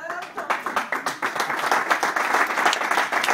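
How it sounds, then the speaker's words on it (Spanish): Audience applause for a comedian at a stand-up comedy night, starting with scattered sharp claps that quickly swell into steady, fuller clapping, with some voices underneath. "Un aplauso muy fuerte para Belilla Valbuena, por favor"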